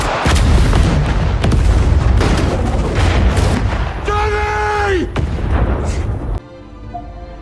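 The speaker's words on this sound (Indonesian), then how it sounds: "Johnny sudah melepaskan pengaman granat dan tentu saja itu akan meledak." A grenade blows up in an action film: a sustained, loud roar of blasts and booming detonations with a whistling tonal sweep, then the rumble drops away abruptly to a quieter tail.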